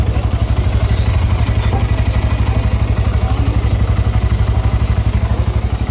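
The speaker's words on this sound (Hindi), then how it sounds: "आइए अब इसका इंजन साउंड सुन लेते हैं," A 125cc motorcycle, a Honda CB 125 Hornet or TVS Raider 125, idles with a steady, rapid low exhaust thump and light mechanical clatter. It runs close and loud and keeps an even rhythm throughout with no talk.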